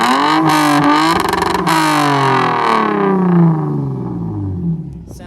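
A Nissan VQ-engined car revs with a deep, resonant exhaust drone through a single resonator, pitch sweeping up and down, loud and close, with a brief raspy burst near the start.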